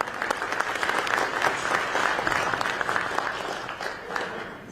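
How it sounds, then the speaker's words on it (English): An audience at a public meeting about stadium traffic and transportation claps in a dense, steady round of applause that stays fairly loud throughout before tapering slightly at the close. "One more round of applause for Executive Director Gallucci."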